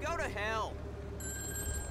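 A public telephone rings in the GTA V video game, a thin steady electronic ring that starts after a voice briefly speaks and continues alone under low background hum.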